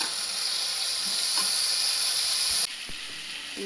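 Vegetables sizzling in a pan while fried with spices, a steady close hiss of frying that drops slightly in level near the end, with faint clinks.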